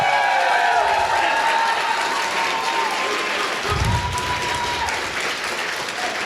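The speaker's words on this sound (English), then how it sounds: "let's give it one more round of applause" An audience gives a sustained round of applause at a documentary event, a dense wash of clapping filling the space throughout, with faint cheering and a voice briefly audible underneath.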